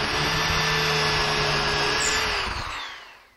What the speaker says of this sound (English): Now I can drill that with my 1/4 inch drill.